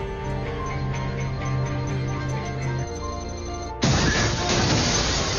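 Bulletproof glass smashed in an action film, a sudden loud crash that breaks through a sustained droning musical score and leaves a dense, bright roar of shattering.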